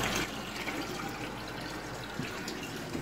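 Water runs steadily from a laboratory tap, a continuous close hiss and splash with no voices, beginning with a brief louder burst.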